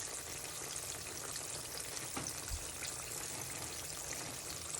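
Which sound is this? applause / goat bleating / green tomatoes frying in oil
green tomatoes frying in oil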